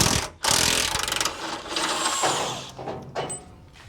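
An impact gun with a 17mm socket removing subframe bolts from a broken Rover diesel, a loud burst of rapid rattling hammering after a short pause, then easing into quieter mechanical clatter and clunks nearby.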